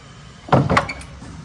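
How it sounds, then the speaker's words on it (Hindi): A door is opened with a short thunking clack followed by a second knock-like bump, close by and brief against a quiet indoor background. "चलो चलते हैं, दरवाज़ा खोलते हैं,"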